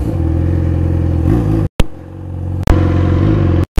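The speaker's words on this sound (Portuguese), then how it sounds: "Sai correndo com a moto, você não falou nada." A motorcycle rides along at speed with a loud, close engine drone and rising revs, broken by a few abrupt cutouts before the engine note resumes.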